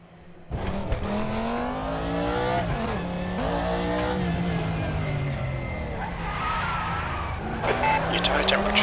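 A 1992 Audi DTM race car in the RaceRoom sim at the Norisring roars loudly and continuously. Its engine pitch climbs and drops through gear changes, while a person talks over it.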